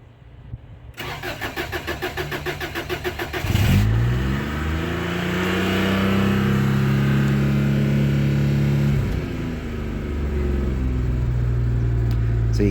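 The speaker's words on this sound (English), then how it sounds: "It will sound quite strong now, the engine, when it starts" A starter motor cranks in a rapid whirring rhythm, then a 1989 Daihatsu Charade engine catches and roars, revving high before settling into a strong, steady run.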